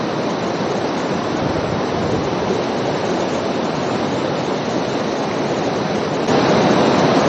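The Tons River rushes past a riverbank on the Har Ki Doon trek in the Himalayas, a loud, steady roar of flowing water that stays dense and unbroken throughout.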